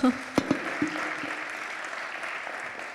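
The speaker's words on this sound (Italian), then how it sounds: "un applauso" Audience at an Italian corporate welfare and insurance conference applauds, opening with a few sharp claps and then settling into a steady, fairly soft wash of clapping.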